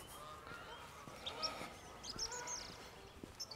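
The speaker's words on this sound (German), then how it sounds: "Ich denke mal, die Enten und sowas, die werdet ihr auch wohl hören. Die schnattern schon ganz schön." Ducks and geese at a pond give out scattered, faint honks and quacks over a quiet outdoor background, several short calls in irregular bursts from some distance.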